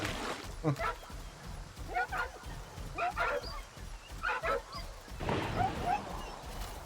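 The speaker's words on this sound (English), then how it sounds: "I believe that's the dog just drowning." A dog whimpers and yips in short repeated bursts while drowning in swampy water in the S.T.A.L.K.E.R. 2: Heart of Chernobyl video game, mixed with game ambience throughout.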